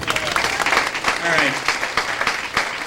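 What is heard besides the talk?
comedy club audience applause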